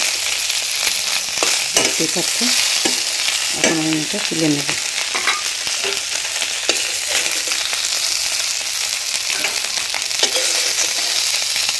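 Fish head sizzles loudly in hot oil in a kadai, a dense continuous frying hiss with stirring scrapes, while a person speaks briefly over it near the start.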